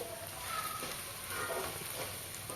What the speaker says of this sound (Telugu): ఆ లోపు మన బెండకాయలు అయితే మంచిగా గోలాయి అన్నమాట నూనెలో